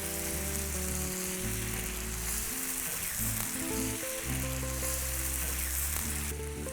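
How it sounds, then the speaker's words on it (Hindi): Chicken sears on a hot tawa in a busy street-style setting, giving a loud continuous sizzle, with steady background hum and tonal clatter from the surroundings; no talking. "चिकन को सेकना है बट पकाना नहीं है"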